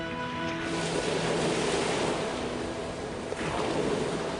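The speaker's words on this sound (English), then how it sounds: "And the waters of the Atlantic Ocean flood in." Atlantic Ocean water floods into a submerged barge as a loud, continuous rushing wash that never lets up, with wind buffeting throughout.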